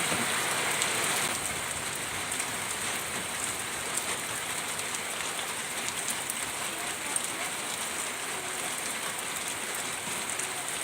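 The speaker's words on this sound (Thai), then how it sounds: "ฝนลงกับเบาๆค่ะ" Light rain falls steadily and evenly, a soft continuous hiss of drops on surfaces with no other sounds.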